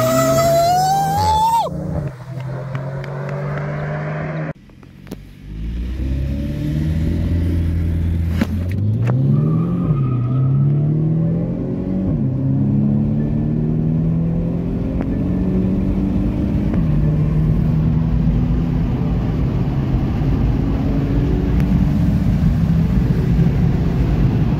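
A VW Golf 8 GTI and a BMW M135i xDrive launch from a standstill. Loud, close engines rev and then pull hard, with rising gear-by-gear sweeps and shift breaks that carry on steadily to the end.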